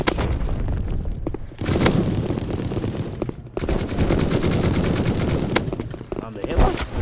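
Rapid bursts of gunfire from an anime-style first-person shooter game on Roblox, loud and dense, with sharp repeated shots breaking in short volleys and brief pauses between them.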